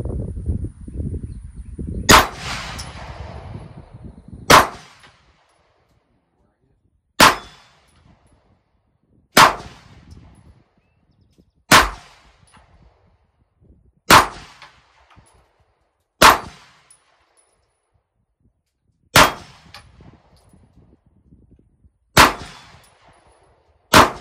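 A Canik pistol fitted with a new recoil spring fires eight or nine loud, sharp single shots at a steady, unhurried pace after some handling noise at the start, with no talk.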